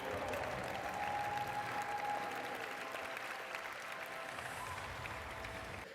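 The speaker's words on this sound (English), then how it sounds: "An absolutely stunning, big round of applause for that run for NimbRo." Sustained applause and cheering from a competition audience after the NimbRo team's robot avatar run at the ANA Avatar XPRIZE finals, a dense, steady roar of clapping with a brief tonal whine early on.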